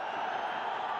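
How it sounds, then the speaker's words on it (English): A stadium crowd roars steadily for Shahid Afridi at a Pakistan Super League cricket match between Peshawar Zalmi and Islamabad United, the cheer sustained and broad for about a second. "Massive cheer for the skipper."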